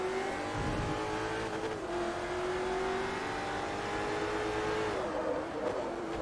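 A Maserati MC12 race car in the video game Forza Motorsport 3 drones along at speed, its engine holding a steady, loud tone with pitch climbing through gears and dropping at shifts, no voices.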